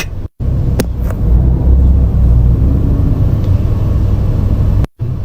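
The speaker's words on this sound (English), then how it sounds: "here's footage of her circling my car after following me to the grocery store one day" Dash-cam recording of a car being driven around near a grocery store, its engine a steady close low rumble and road drone throughout, cut by two brief dropouts near the start and end.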